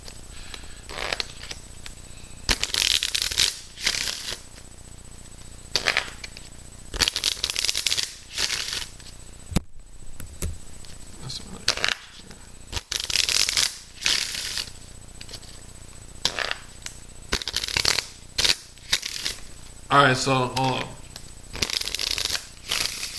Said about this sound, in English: now I've been shuffling these cards